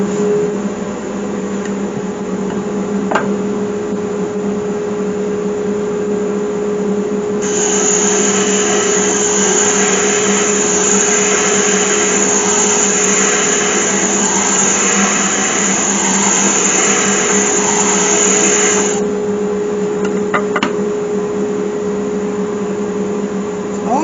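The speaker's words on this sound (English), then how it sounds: "Better start the vacuum." A vacuum pulls up sanding dust while open wood segments are being sanded, its steady whining roar running throughout and swelling noticeably louder for a stretch in the middle before settling back.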